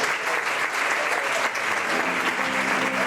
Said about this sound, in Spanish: non ben porque é meu sobrinho, Pitín Muñoz, quero que lle deades un aplauso.